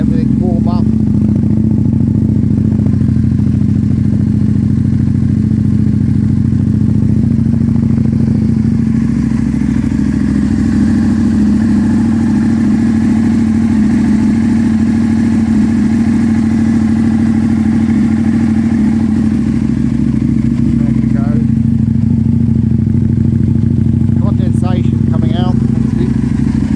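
A 2007 Aprilia Tuono 1000R motorcycle engine idles steadily after a cold winter start, a loud, even low rumble held close throughout with no revving, and brief faint sounds near the end.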